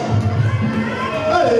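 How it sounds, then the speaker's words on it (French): A crowd at a Thai boxing gala cheers and applauds after the first round of an international bout, a brief dense roar with raised voices mixed in. "On applaudit le courage."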